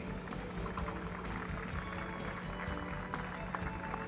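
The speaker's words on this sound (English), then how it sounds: "Please join us in a warm round of applause as we offer our congratulations to the Central Catholic Seniors Class of 2014." A crowd of spectators applauds at a high school boys' soccer match to honour the Central Catholic senior class of 2014, with dense, steady outdoor clapping that runs on for several seconds.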